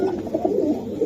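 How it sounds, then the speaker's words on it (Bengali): Rocket pigeons cooing close by, a steady run of soft, low, throaty coos that overlap and continue across the whole moment with no talk. "এটা ভাই একটা রকেট কবুতর"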